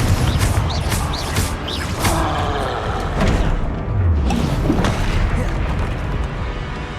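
A Confringo fire spell blasting in the Hogwarts Legacy video game: heavy, booming impacts over a continuous roar of combat noise, loud and close with no talking.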